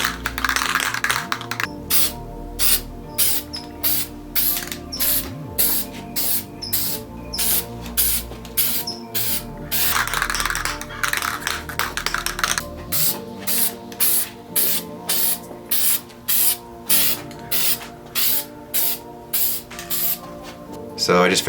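Short bursts of spray paint hiss in a steady rhythm as a second light coat goes onto faded BMW E90 3-Series roof trim moulding, close and clear with brief pauses between passes.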